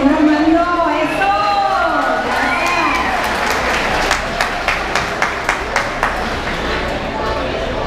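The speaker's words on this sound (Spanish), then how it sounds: "que se oiga fuerte el aplauso, por favor, para el señor Armando" Audience applause at an evening tribute event honoring a man named Armando, beginning under a raised speaking voice, then settling into steady crowd clapping with a few sharp individual claps and cheers toward the end.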